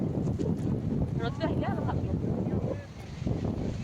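Strong, cold morning wind gusts near the sea, buffeting the microphone in a rough, continuous roar while people talk over it.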